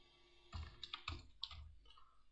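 Computer keyboard typing while text is entered into a field in WaterCAD/Hammer software: a few quiet, scattered key clicks in short bursts, close by and soft, with no talking.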